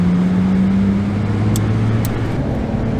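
A Porsche lapping the Bresse race circuit, with a steady, loud engine drone and a low tone that slides gradually in pitch, heard from inside the car without talk.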